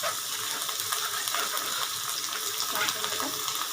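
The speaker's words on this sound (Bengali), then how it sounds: "এগুলো আমি সব দিয়ে দেবো কড়াইতে এগুলো একটু ভাজা ভাজা হবে" Vegetables including capsicum frying in a wok, a steady bright sizzle running without a break, close and moderately loud.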